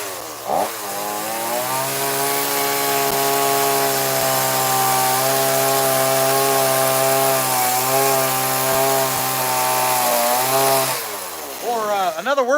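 A smoking chainsaw that struggles to stay running roars at a steady, loud, high idle-to-cutting pitch for about ten seconds while carving a rainbow trout relief into wood, with brief revving and sputtering at the start and end.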